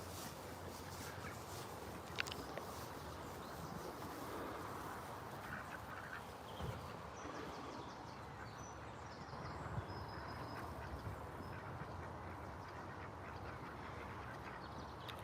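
Faint, distant honking from geese rises now and then over a steady wash of outdoor background noise on a summer suburban park walk.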